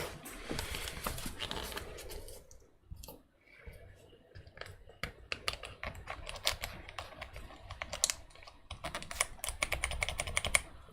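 Brisk typing on a Dygma Defy keyboard with Gateron G Pro 2.0 yellow switches and a metal plate: dense, rapid clacks in uneven bursts with brief pauses, close and crisp.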